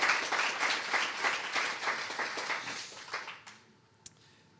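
A museum audience at a talk with an elder applauds, steady clapping for about three seconds that quickly dies away, followed by near silence and one sharp knock.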